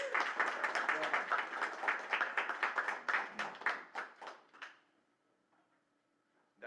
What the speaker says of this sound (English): please a final round of applause for our presenters